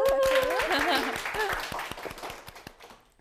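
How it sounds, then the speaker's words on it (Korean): An audience at a live lecture show about art bursts into a short round of clapping, with distinct claps spaced through the clip over a tonal voice-like sound early on, fading out toward the end. "박수 박수 박수"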